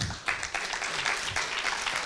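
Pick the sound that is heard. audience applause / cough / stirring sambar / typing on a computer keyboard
audience applause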